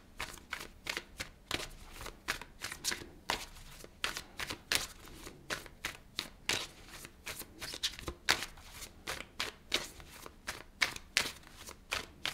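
Tarot cards are shuffled close up in quick, repeated riffling bursts with short pauses between them, the soft papery flicks sounding alone and fairly quiet.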